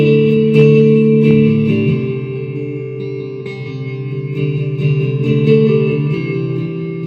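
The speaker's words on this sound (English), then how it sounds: "So this is clean with a bit of delay on it" An electric guitar plays sustained chords and notes through a Fender Mustang LT25 amp on a clean setting with delay at low volume, loud and close with echoing repeats and no talk.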